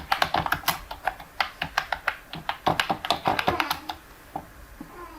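Keys tapping out a product title on a computer keyboard, a quick irregular run of close, crisp clicks that thins out and pauses near the end.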